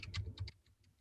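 Quick keystrokes on a computer keyboard, four or five light clicks in a short burst, then a couple of fainter taps, quiet and close.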